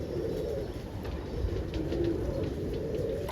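Roller pigeons coo in a loft, low soft murmuring calls overlapping continuously against a steady noisy background.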